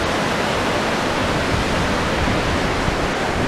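Sea waves at Blackpool North Pier wash in as a steady, broadband roar, loud and continuous with no distinct breaks, like constant surf rushing beneath the pier.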